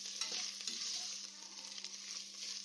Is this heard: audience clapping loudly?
no